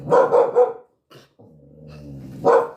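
A dog barks close by, three quick barks in a row, then a short pause with a low whining growl before one more loud bark at the end.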